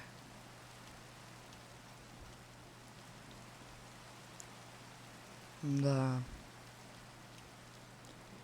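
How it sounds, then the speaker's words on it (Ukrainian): Soft, steady rain patters throughout under a low hum, and a single short spoken word breaks in briefly. "Скільки цей дощ буде падати?"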